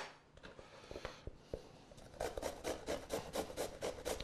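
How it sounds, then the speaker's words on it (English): Sweet potato, skin on, scrapes across a hand grater: a few scattered scratchy strokes, then a quick steady run of rhythmic rasping passes, close and fairly quiet, with no talking. "I'm going to grate some sweet potato."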